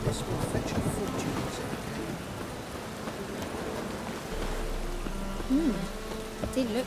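Rain in The Witcher 3: Wild Hunt, a steady wash of falling rain with rumbling low ambience, while faint game voices and tonal sounds surface near the end.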